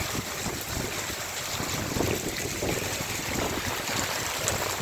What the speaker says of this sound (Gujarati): આગળ દેખાતું નથી તેવા ઘટાટો વાદળો સાથે ગાજવીજ પવનની સાથે વરસાદ ચાલુ છે